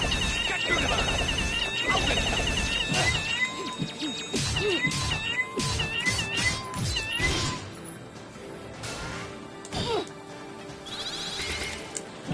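A giant cat boss in the game Indivisible meows and caterwauls repeatedly in loud, wavering cries over busy battle music and effects, with a voice talking intermittently.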